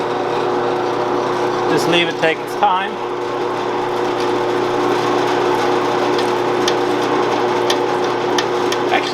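A drill punches holes with a steady, whirring grind that runs continuously at close range, while a person speaks briefly over it.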